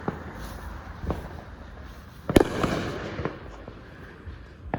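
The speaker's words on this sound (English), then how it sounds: "these fireworks." Fireworks bursting around a neighborhood during a holiday night, a steady crackling background broken by several sharp bangs, the loudest one near the middle, with scattered pops fading in and out at varying distances.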